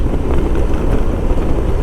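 Strong wind roars steadily against the microphone while riding a 1994 Honda ST1100 Pan European motorcycle, a loud continuous low rumble with no voices.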